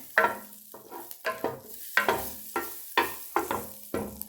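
Butter melting in a pan for Gobernador tacos, a rhythmic series of about eight scraping strokes with a soft sizzle underneath, close and moderately loud.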